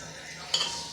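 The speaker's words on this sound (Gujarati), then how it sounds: "તો સરોજે વઘાર કરી દીધો છે।" Whole spices sizzle as they are tempered in hot oil for idli, a steady close crackle with a short sharp spatter flaring midway.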